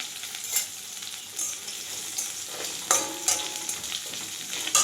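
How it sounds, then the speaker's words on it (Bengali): Chopped raw onion, dried red chillies and bay leaves fry in hot oil in a pan, with a continuous close sizzle broken by several sharp scraping stirs, and no talk. "শুকনো লঙ্কা, তেজপাতা, পেঁয়াজ দিলাম, কাঁচা পেঁয়াজ কুচনো"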